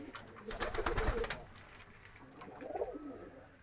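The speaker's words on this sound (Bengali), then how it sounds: "দেখুন আমার পায়রাগুলো সব কিন্তু অ্যাক্টিভ খেলছে" Pet pigeons coo softly nearby in two low, throaty bursts, with nothing else in the background.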